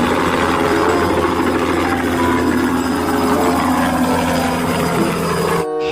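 A toy helicopter whirs continuously and loudly with a steady droning hum, stopping abruptly at the very end, with no talking heard.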